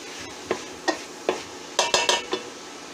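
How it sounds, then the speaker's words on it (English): Spoon stirring homemade chili in a pot, a series of separate scraping, clinking strokes with a quick cluster near the end, over a quiet kitchen background. "Stir that up."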